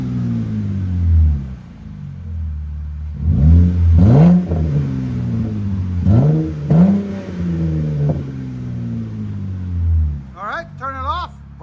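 A RAM pickup's 3.6L V6 with a Vibrant resonator exhaust idles with a deep drone, then revs up loudly a couple of times up close while people talk over it.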